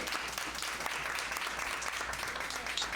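An audience gives a round of applause for a woman named Miss Virginia at an evening gathering, steady dense clapping filling the whole stretch at moderate level with no clear voices.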